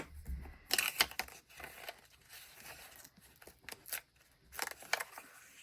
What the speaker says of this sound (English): I love how fast and easy my gyro cut is.